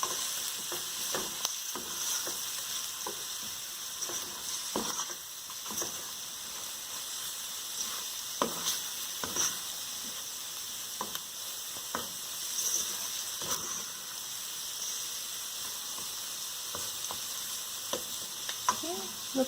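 Brown chickpea chana masala with red chili powder frying in a pan, a continuous soft sizzle broken by frequent scraping and tapping strokes of a spoon being stirred through, no voices.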